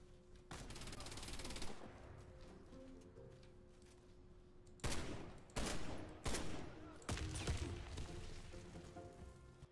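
Bursts of gunfire from a weapon in an online shooter video game, starting after a pause and coming in several loud, close clusters with a steady low hum underneath.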